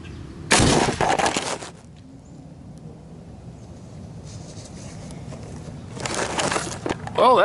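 An air rifle tuned to 550 psi fires a steel slug at a hard drive, giving a loud sharp report near the start, a quieter stretch, then another burst of loud impact noise near the end.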